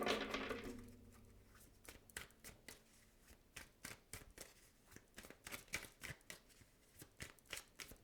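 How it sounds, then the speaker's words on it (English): A deck of tarot cards being shuffled by hand, a rapid run of crisp riffling flicks with short pauses between bursts, close and quiet, no talking. "I literally shuffled the deck"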